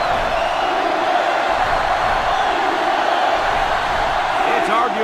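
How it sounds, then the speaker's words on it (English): A stadium crowd roars in the NCAA Football 2005 Xbox game during Ohio State Buckeyes vs Michigan Wolverines, a steady dense wall of cheering throughout, with a faint commentator-like voice mixed beneath. "Arguably the loudest crowd in the nation, and they are turning it up a notch"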